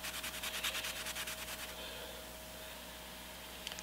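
Rhythmic back-and-forth strokes of 15 micron silicon carbide abrasive sheet wetted with WD-40, quick regular rasps that fade into a steady hiss, with a couple of light taps at the end.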